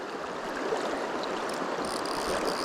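Heavy, fast-flowing river water at a fly-fishing nymphing spot about knee-deep, a steady broadband rush and gurgle close by, continuous and fairly soft, with no voices.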